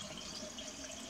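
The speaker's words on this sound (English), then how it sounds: "if you pour water in one side of the sink" Water running into a sink, a steady quiet hiss of flow lasting about a second with no voices.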